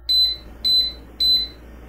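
Philco electric pressure cooker signalling the end of cooking with three short, evenly spaced electronic beeps, clear and close, with a faint low hum between them.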